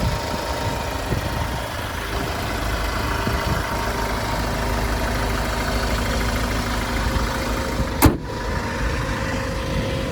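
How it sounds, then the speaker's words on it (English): A tidy, clean car engine idles, heard close from the engine bay as a steady low rumbling hum with constant vibration and one brief knock near the end. "We've got the engine running"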